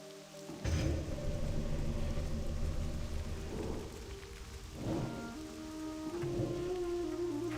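Steady rain falls in World of Warcraft: Wrath of the Lich King Classic, a dense continuous hiss with periodic rumbling swells like distant thunder, heard alone without talk.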